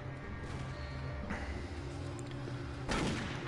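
Gunfire from the VR shooter Doom 3 VR Edition, a steady dense rumble of shots with a louder burst near the end, playing continuously without any talk over it.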